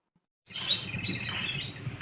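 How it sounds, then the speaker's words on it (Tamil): Repeated high bird calls of an Asian koel in a rural village yard, heard alongside other chirping birds over a steady outdoor background, fairly close and clear with no talking. "குயில் கூவுற சத்தம்லாம் கேக்குதுங்களா?"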